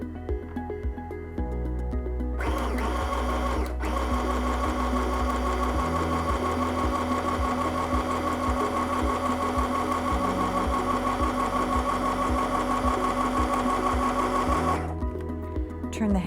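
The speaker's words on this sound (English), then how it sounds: "step on the foot control to start sewing" An M1000 sewing machine, run by its foot control, sews a straight stitch: a steady, close mechanical whir and rapid needle chatter for about twelve seconds, starting and stopping cleanly.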